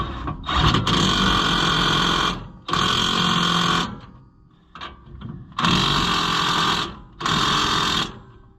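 Loud mechanical whirring from a power tool tightening bolts on a stuck truck wheel, in several long bursts, starting and stopping with brief pauses between runs, close up.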